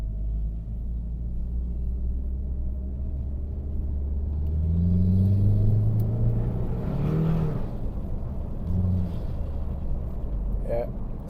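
Saab 9-5 Aero with a stage 1 tune pulling at full throttle in snow, wheels spinning, its engine rumble rising and swelling in the middle before easing off, close and steady throughout.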